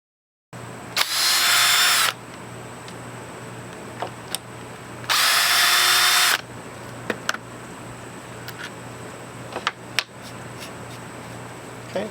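Router riding a jig to cut a mortise in wood for an all-wood gate, two loud bursts of high whining cutting a few seconds each, separated by quieter knocks and clicks, close and without talk.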